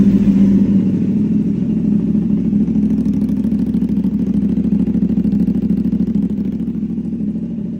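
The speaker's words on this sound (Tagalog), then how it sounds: "Tapos, try nating start kasi aftermarket na yung exhaust nito." A CF Moto 450SR motorcycle fitted with an aftermarket exhaust starts up and settles into a loud, steady idle, its close, even engine note rumbling continuously throughout.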